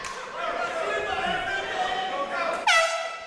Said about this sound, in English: Every time the air horn goes, I jump.